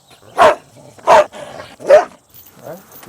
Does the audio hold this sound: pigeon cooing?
no